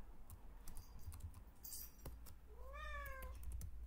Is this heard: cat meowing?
yes